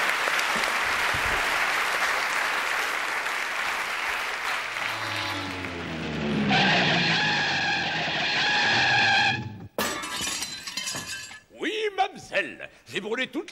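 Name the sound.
studio audience applause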